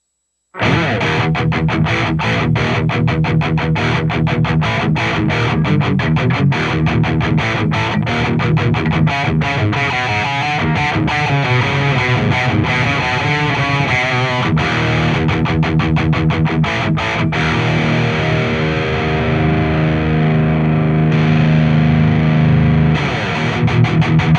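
Electric guitar played through a Driftwood Mini Nightmare amp with the drive pedal switched off, heard alone as a continuous stretch of loud, gritty riffs and chords from the amp's own tone.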